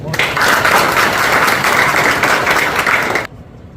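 Dense audience applause after the close of a lecture on democracy and education, loud and steady for about three seconds before cutting off abruptly.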